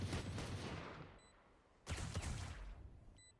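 Gunfire from a Valorant esports match on the Lotus map: two loud bursts of rapid shots through walls, separated by a brief lull, with sharp crackling impacts and no talk.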